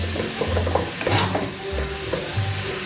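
Minced beef sizzling in a hot pan as it is broken up and stirred, with repeated scraping and clumping strokes over a constant frying hiss.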